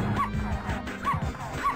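Puppy enemies in a Powerpuff Girls video game let out three short, bright yips at an even pace, evenly spaced over busy game music and effects.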